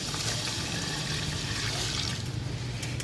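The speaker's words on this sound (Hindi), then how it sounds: "ये 1 किलो दूध मैं पहले इसमें मिक्स कर रहा हूँ, ये देखें आपके सामने।" Milk poured into a pan for semolina (suji) halwa gives a steady, close liquid rush that runs without a break for about three seconds, with no voices.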